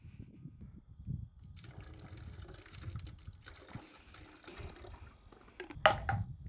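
Apple juice is poured into a Fatal Funnel yellowjacket trap as bait. Faint trickling and dribbling run under light handling noise, ending in a brief louder splash and clatter.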